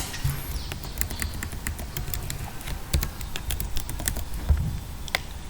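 Rapid clicking keystrokes on a computer keyboard as an Excel formula is entered, an irregular close patter of taps with a few louder strikes, no speech over it.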